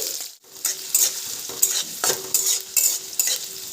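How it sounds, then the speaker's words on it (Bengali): Chopped carrots stirred and frying in a wok with other vegetables for a vegetable dal: a steady close sizzle broken by repeated scraping spatula strokes, with no voices. "এর মধ্যে গাজর কুচি খুব ভালো করে সব কিছুর সাথে একটু নাড়াচাড়া করে নিচ্ছি"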